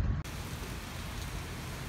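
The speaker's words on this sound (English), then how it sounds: "it's raining and it's hailing" Rain and hail fall steadily outdoors as a soft, even hiss of wash that stays quiet and constant after a short break at the start.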